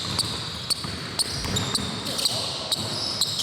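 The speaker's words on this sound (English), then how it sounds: "You guys are going to hear a really good amount of squeaking on these." Sharp, high sneaker squeaks repeat irregularly on a hard court, several short chirps in quick succession over a low rumble of background noise.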